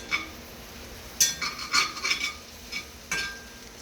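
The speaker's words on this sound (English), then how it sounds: "Well, stir, stir, stir." Creamy pasta sauce with garlic stirred in a pan, a spoon scraping and clinking against the metal in a few separate bursts with quiet gaps between, close and moderately loud, no talking.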